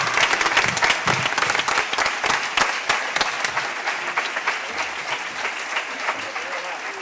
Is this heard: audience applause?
yes